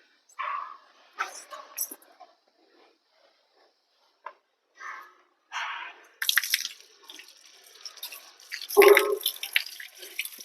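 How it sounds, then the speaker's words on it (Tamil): Tap water splashes in short bursts as feet and hands are washed at a temple in Tamil Nadu, near and intermittent, with a louder gush toward the end and a voice talking between splashes. "எப்பவுமே கால் அலம்பும் போது பின்பகுதி தண்ணியை நிறைய பேருக்கு படாது, பின்பகுதியும் கழுவிக்கோங்க."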